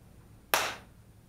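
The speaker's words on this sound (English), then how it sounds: "Okay, I'm clapping like this." A single sharp hand clap, close and clear, with a short decaying ring in a quiet room.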